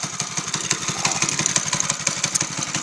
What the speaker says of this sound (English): It's a Motor City Minis motor.